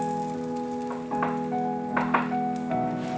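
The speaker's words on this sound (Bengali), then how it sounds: "আমি বাকি আমার যে বেগুন বেগুনিগুলো আছে ফ্রাই করব" Eggplant slices (beguni) fry in hot oil in a wok with a steady, close sizzle and soft bubbling crackle that swells slightly midway, with no voices.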